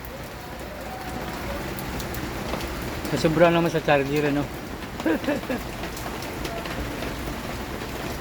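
Steady, heavy rain hisses throughout, with a brief burst of talk in the middle.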